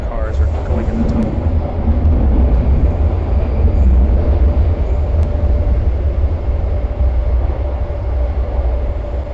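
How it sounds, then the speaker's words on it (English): A Hong Kong subway train runs through a tunnel with a loud, steady low rumble and roar that fills the whole stretch, and muffled voices can be heard under it. "See the train. We're turning in a tunnel. You can see all the other cars are going in the tunnel."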